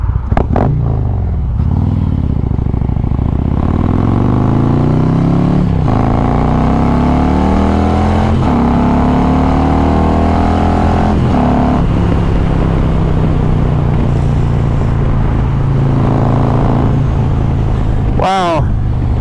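2020 Harley-Davidson Road Glide Special 114 ridden on a cold clear day, a loud steady engine drone rising and falling through the gears with wind rush, under a rider's talk.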